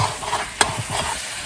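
Meat sizzles and scrapes in a hot pan as it is stirred and browned for a spiced kosha curry, a brief loud clatter of the spatula cutting through the steady frying hiss.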